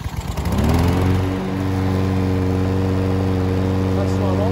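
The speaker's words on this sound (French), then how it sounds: "on va pouvoir avoir un démarrage électrique de cette tondeuse" A McCulloch lawn mower's electric starter cranks briefly, the engine catches, and settles into a loud, steady idle running close by.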